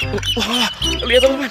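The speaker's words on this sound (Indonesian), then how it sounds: "Wah, sepertinya suara bebek." A duck quacks from somewhere nearby while an excited voice keeps talking over it, its calls mixed in and partly masked by the speech.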